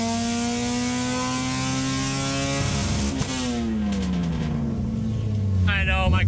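A loud race car engine at a dyno check drones and shifts pitch as it revs up and down, close and constant, with some speech mixed in.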